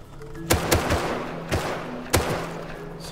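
Several sharp gunshots in the survival video game Rust, about five cracks with brief thuddy tails spread irregularly over a few seconds, fairly close and punchy against a low background.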